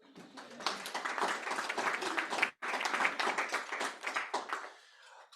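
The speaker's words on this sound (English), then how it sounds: "Give yourself a big round of applause for that." An audience at an ambassador's talk breaks into applause, steady dense clapping with a brief cut in the middle, then thinning out toward the end.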